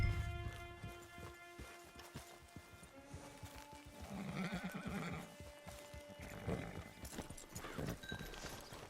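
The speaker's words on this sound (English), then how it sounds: "Get your horse." Horses neighing and whinnying at a camp in the Red Dead Redemption 2 video game, with clip-clop hoofbeats and other animal bleats over a busy background, several calls spread across the stretch.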